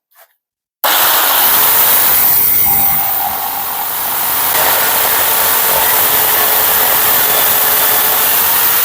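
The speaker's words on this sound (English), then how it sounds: "I'm going to use the jigsaw to get in close, but not on the lines" Jigsaw cutting wood near the lines of a template, a loud steady buzzing motor running almost without a break after a brief quiet start, close up.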